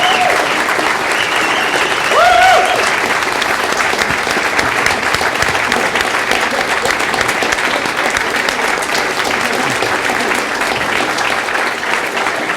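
A large conference audience gives sustained, loud, even applause at the PyCon Canada 2015 closing ceremony, dense clapping filling the room for the full stretch with a brief cheer or whistle near the start.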